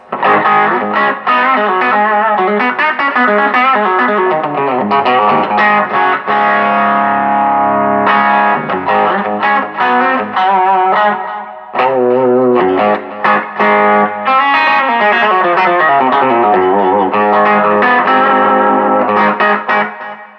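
An electric guitar plays through a Quilter SuperBlock UK amp with light drive, giving loud, continuous, mildly distorted chords and notes with a chorus-like shimmer and brief pauses, alone without voices.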